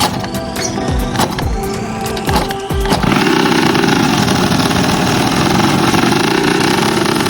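A Honda Tact scooter engine with a fuel leak problem sputters through a few uneven cranks, then catches and settles into a loud, steady idle close by, with no talking.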